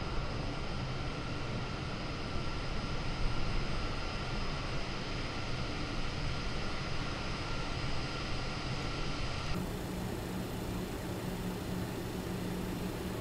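Engines of a BAe 146 airliner idle in a flight simulator, a constant loud whining roar that never changes, then shifts to a slightly different tone near the end.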